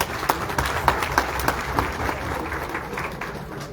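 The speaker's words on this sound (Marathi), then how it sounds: "आपण जोरात टाळ्या वाजवून पुरस्काराचं अभिनंदन करूया" Audience applause at a state-level Sarpanch Council award ceremony, sparse clapping with a few sharp individual claps standing out over a steady murmur of the hall, fading slightly toward the end.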